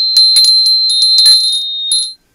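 A small handheld holiday bell ringing close and loud, with a string of bright metallic jingles in irregular bursts and a steady ringing tone under them, which stops abruptly at the end.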